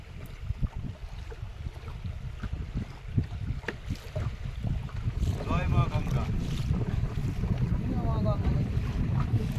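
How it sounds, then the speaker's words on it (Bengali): Strong wind gusts across a river during a storm, heard from a fishing boat on the Garal river near the Marichjhapi forest: steady loud rumbling buffeting with water wash, growing stronger toward the end, with faint voices in the background. "আর আজকে কিন্তু নদীতে প্রচুর তুফান হচ্ছে।"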